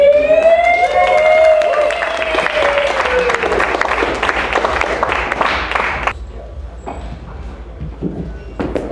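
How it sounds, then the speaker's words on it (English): Audience applause and crowd noise at an Occupy Calgary gathering, a dense wash of clapping for about six seconds that thins out afterward, with a loud rising and falling whistle or siren-like tone over the start. "One more round of applause."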